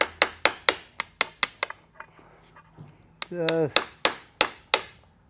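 Sharp metallic hammer taps drive a crank seal into a 2023 KTM 300 XC two-stroke motorcycle engine through a deep well socket, a fast run of close, loud strikes, a brief pause with a short squeak, then more evenly spaced blows.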